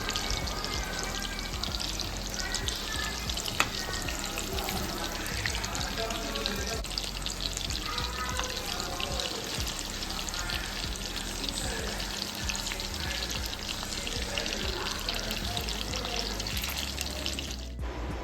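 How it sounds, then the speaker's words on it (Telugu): Mutton kheema balls fry slowly in oil on a low flame, a dense steady sizzling crackle that continues evenly and stays fairly quiet. "ఇలా ఒక్కొక్కటి యాడ్ చేసుకుంటూ లో ఫ్లేమ్లో పెట్టుకొని నిదానంగా ఫ్రై చేసుకోవాలి"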